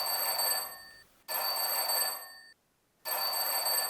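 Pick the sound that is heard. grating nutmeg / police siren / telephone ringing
telephone ringing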